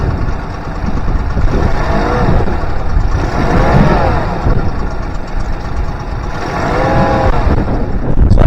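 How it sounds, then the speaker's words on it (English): Honda BF25A four-stroke 25 hp outboard motor with three carburetors revs up and drops back repeatedly, a loud close engine whose pitch rises and falls in several swells. "See how it revs up."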